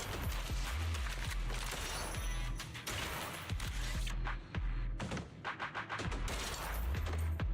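Video game gunfire: dense bursts of rapid shots and impacts, loud and continuous, with brief gaps between volleys and no talk.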